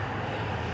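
Outdoor wind rushes steadily across the microphone as a dense, unbroken low roar, close and fairly loud for just under a second, with no voices.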